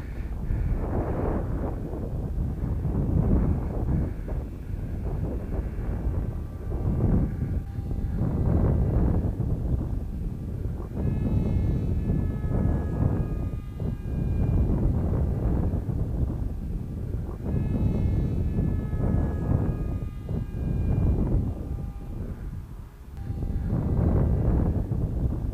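Steady wind buffets the microphone with low rumbling gusts throughout, while the electric motor of a small RC F-16 model plane whines faintly in the distance, rising and falling.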